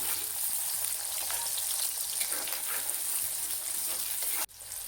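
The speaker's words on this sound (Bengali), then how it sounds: "তেলগুলো একটু গরম হওয়ার পরে পেঁয়াজ কুচি, কাঁচা লঙ্কা কুচি দিয়ে দিলাম।" Chopped onion and green chilli fry in hot oil, a loud, steady close-up sizzle that runs unbroken until a sudden drop just before the end.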